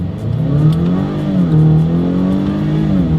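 A 2023 Acura RDX with a 10-speed automatic pulls away from a standstill in sport mode, its engine note rising steadily and loudly close by, with no talking over it.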